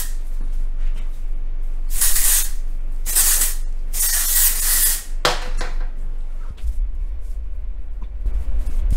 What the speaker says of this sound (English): So I'm just gonna respray.